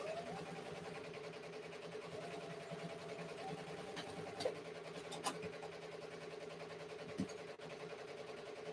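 A sewing machine winds a bobbin with a steady, quiet mechanical whir and hum that keeps going without a break, marked by a few faint clicks and taps.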